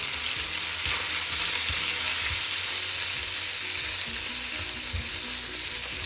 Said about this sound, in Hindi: अब हम डालेंगे हमने जो पेस्टो सॉस बना के रखा था वो। अच्छे से मिक्स कर लेंगे।